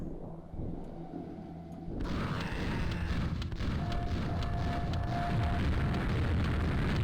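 An ogre fires explosive shots in a dark fantasy shooter game, a sudden heavy blast around two seconds that opens into a sustained roaring, crackling rumble, loud and close.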